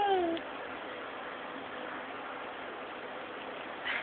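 A kitten gives a short meow at the very start, then only a steady soft hiss remains. A baby is cuddling with it.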